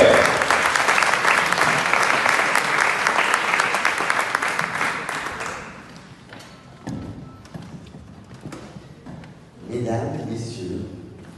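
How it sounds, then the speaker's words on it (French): Loud audience applause at a ceremony fills the first six seconds, then fades to scattered claps and murmuring, with a brief swell of clapping returning near the end. "On peut l'applaudir bien fort,"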